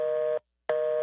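A telephone busy signal sounds close and loud as a steady tone that cuts off briefly and then starts again.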